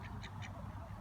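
A couple of brief wild duck quacks, faint and distant, over a noisy outdoor background rumble in a park in Australia.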